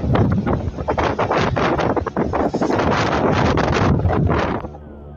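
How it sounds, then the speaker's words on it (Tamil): Strong wind buffets the microphone outdoors at a hotel site, a loud continuous roaring rush with gusty surges that dies away abruptly at the end, with no speech. "காற்று கொஞ்சம் அதிகமாக இருக்குது."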